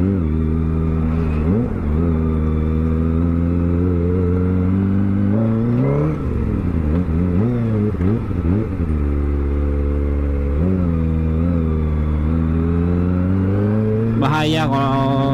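A car engine revs on a road near a sharp bend on a hill, rising and falling repeatedly in loud, close, harmonic surges that stay prominent throughout, with one sharper burst near the end.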